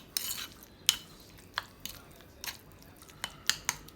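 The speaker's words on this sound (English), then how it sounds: "Give that a good mix." Brisket taco filling being mixed with seasonings in a bowl, giving soft, intermittent scraping and sharp utensil clicks against the dish, spaced irregularly and close by.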